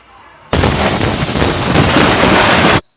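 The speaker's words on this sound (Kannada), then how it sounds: "ಅದರಿಂದ 2 ವಿಷಲ್ ಕೂಗಿಸ್ಕೊಳ್ಳಿ" A pressure cooker holding sambar with overnight-soaked ingredients, brinjal and potato lets out one loud, steady hissing whistle of steam that starts abruptly, holds for about two seconds, then cuts off sharply.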